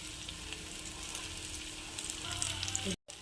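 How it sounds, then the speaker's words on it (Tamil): Two pieces of rock fish frying in a little oil on a dosa tawa, a close, even sizzle that builds slightly before cutting out briefly near the end. "இப்போ இதில் நம்ம ரெண்டு பீஸ் மீன் ஆட் பண்ணிக்கலாம்"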